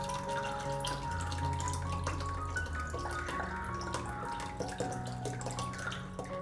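Water is poured onto chana dal in a bowl for soaking, giving a steady trickling and splashing stream with faint drips over quiet background music.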